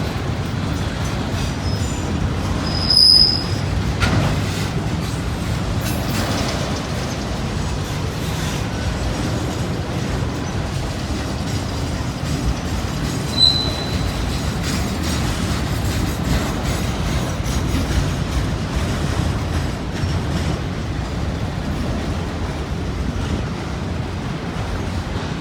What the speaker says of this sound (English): They've been combining these trains lately, autoracks and intermodals, and even throwing a little mixed freight in there too.